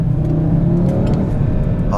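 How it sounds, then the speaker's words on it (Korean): An Audi RS3 with a 400-horsepower five-cylinder engine accelerates on a driving road, its loud, steady engine drone and exhaust note filling the car cabin. "가속해볼게요. 잘 나간다."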